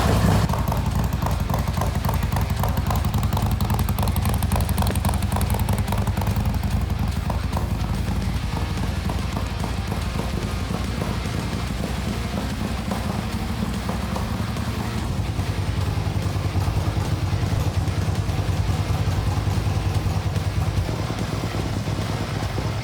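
Motorcycle engine while riding, a continuous close throbbing drone with rapid rhythmic pulses and wind rush, steady and loud throughout.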